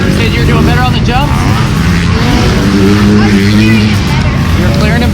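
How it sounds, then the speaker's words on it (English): Loud motocross bikes race on a dirt track at the Frigid 6 Round 3 main track in Marysville, California, a continuous engine roar with rising and falling revs as machines pass, while people talk close by. "We got all these loud bikes"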